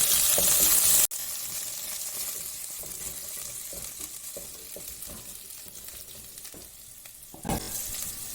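Green chillies, ginger and curry leaves sauté in a hot pan with a steady sizzle and scraping stirs. A loud hiss opens the sound before a sharp cut, and a brief louder burst comes near the end.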